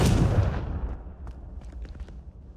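Confringo blasting spell in Hogwarts Legacy, a single loud close explosive boom that decays over a couple of seconds into scattered crackling debris.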